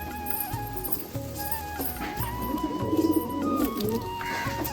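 A Kalanka pigeon, one of a pair of homing pigeons kept at home with eggs, coos in soft repeated low throaty phrases, close and moderately quiet, with faint birdsong and household background.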